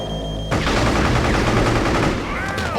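Enemy gunfire in Psi-Ops: The Mindgate Conspiracy, a dense, continuous rattle of rapid shots that starts abruptly and runs loud and close for over two seconds, ending in a few whooshing game effects.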